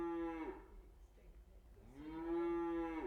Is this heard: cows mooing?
yes